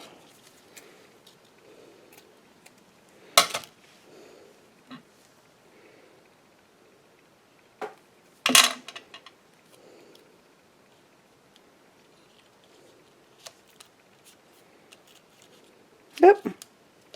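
Scissors cutting card material for a papercraft project, a few short, crisp snips spaced several seconds apart, with light handling rustles between them and a voice talking softly throughout.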